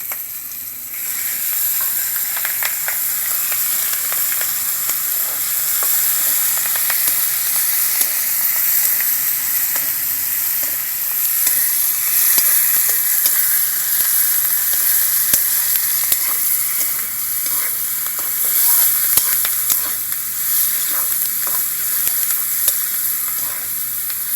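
A hilsa fish head fries in hot oil with chopped onion and green chili, sizzling continuously for the whole stretch, with occasional stirring scrapes and crackles and no voices.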